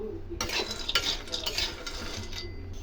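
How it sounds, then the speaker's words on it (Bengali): Hot mustard oil bursts into a loud, crackling sizzle after a quiet start, with stirring and clinking of utensils continuing underneath. "এবার তেল গরম করে আমি নাড়িটাকে লাল লাল করে ভেজে নেব।"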